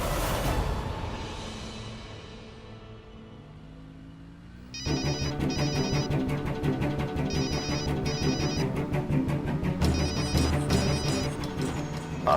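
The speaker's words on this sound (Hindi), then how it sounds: "सर जी फोन क्यों नहीं उठा रहे हैं?" A telephone ringtone starts after a quiet stretch with a fading tone, then rings in repeated electronic bursts, loud and steady, with no one talking.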